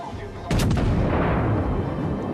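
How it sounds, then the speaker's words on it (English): A battleship's main turret guns fire in World of Warships, one heavy booming blast that arrives suddenly and hangs as a long rumbling roar, loud and close, with no talk. "I have one turret firing."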